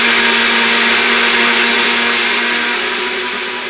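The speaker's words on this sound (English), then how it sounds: "there's our blender full of delicious things" A kitchen blender whirs loud and steady at close range, a dense high whine that eases off slightly toward the end, with no voices.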